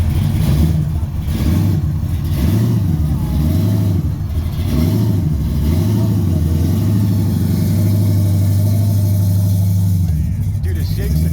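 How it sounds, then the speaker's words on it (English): A V8 muscle car engine at a car show in Martinsburg, WV, revs repeatedly in loud rising-and-falling surges over a deep rumbling idle, close by, with people talking around it throughout. "You can feel it in your body when he revs it."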